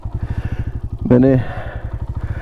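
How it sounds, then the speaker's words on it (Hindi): A motorcycle ploughing through deep sand on the climbs and descents of Chunda Valley near Skardu, its engine thudding in a steady rapid rhythm close by, with a brief spoken word over it. "मोटरसाइकिल पूरा धंसा हुआ है रेत में।"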